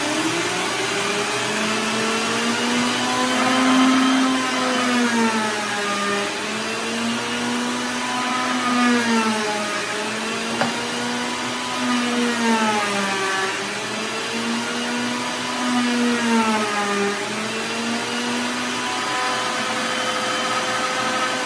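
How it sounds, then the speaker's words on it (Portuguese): A shop vacuum runs alongside a router milling on a benchtop router table, together producing a loud sustained whine whose pitch dips and recovers repeatedly as the cutter loads into the wood, with no speech. "Vamos só fresar aqui, eu vou ligar o aspirador aqui."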